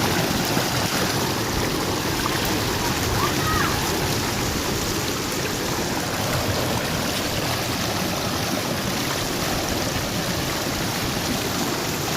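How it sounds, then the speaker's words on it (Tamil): Fast-flowing river water near Kilaiyur surging with strong force, a dense, steady roar of rushing current filling the whole clip, close and loud, with no clear speech over it. "பயங்கரமாக தண்ணி இழுக்குது"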